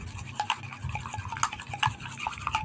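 An egg white face pack is whisked in a small bowl, with a spoon clinking and scraping against the sides in rapid, uneven strokes, close and with no talking.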